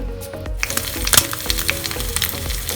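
An egg with cheese fries in a small pan, a steady close sizzle dotted with small pops and crackles, heard on its own without talk.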